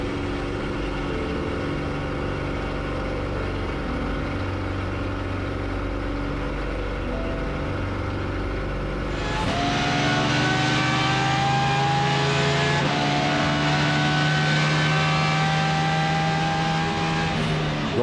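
A V10 Judd-powered drift car at a time attack event in Australia holds a steady, harmonic-rich engine note, then swells sharply louder partway through as revs climb and hold at a high, buzzing pitch.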